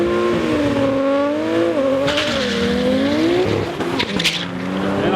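Rally car engine revving hard and accelerating close by, pitch sweeping up and down through gear changes with brief crackling bursts, loud and continuous.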